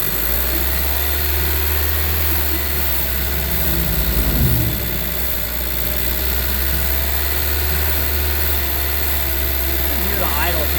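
A Honda 1.5-liter turbo GDI engine, with its vacuum line pulled off, runs with a steady droning hum close by and shifts only slightly as the revs are brought up.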